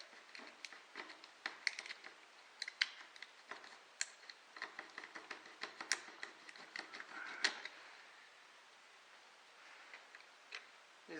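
Hardened, stone-stiff fuel hose on a Chinese pit bike being cut by hand, heard as quiet, irregular snips, clicks and crackles close up, with no talking.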